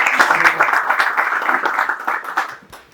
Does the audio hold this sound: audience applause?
yes